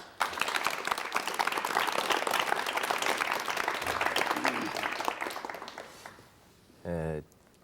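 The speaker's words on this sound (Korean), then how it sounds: "박수로 환영해 주시면 대단히 고맙겠습니다" A studio audience at a 1988 KBS talk show applauds to welcome guest Lee Don-myung, president of Chosun University. Dense, steady clapping fills about six seconds, then fades out, followed by a short electronic tone.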